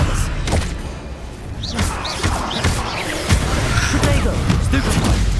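The Expelliarmus disarming spell in the video game Hogwarts Legacy lands as a series of thuds and bright magical bursts amid loud, busy combat, with a voice heard among the effects.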